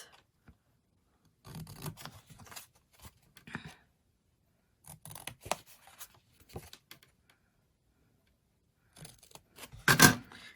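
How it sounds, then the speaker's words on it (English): Scissors cut paper tabs for a matchbox pop-up card in several short bursts of close, crisp snipping, separated by quiet pauses and ending in a louder cut. "I'm going to cut each of the tabs"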